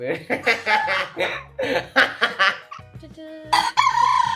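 During a game night, a person imitates a rooster's crowing with a drawn-out, wavering vocal call, mixed in among laughter and chatter from several people close by.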